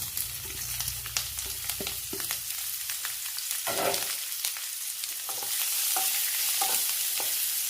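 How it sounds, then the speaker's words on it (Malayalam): Chopped onion goes into a pan of browned coconut pieces and fries with a steady sizzle, with stirring and scraping noises. The cooking is for a Kerala-style pork curry. The sound is fairly close and no one speaks. "തേങ്ങാക്കൊത്ത് ചുവന്നിട്ടുണ്ട്. അതിലേക്ക് സവാള ചേർക്കാം."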